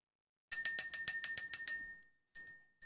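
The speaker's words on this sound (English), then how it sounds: "Let's ring the bell." A small hand bell, rung to clear the energy at the start of a spiritual reading, chimes in a quick run of about nine bright strikes, then two softer isolated rings after a short pause.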